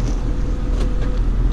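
A new Ford Mustang GT engine gives a steady, close low rumble, a constant even drone with no revving for the whole moment.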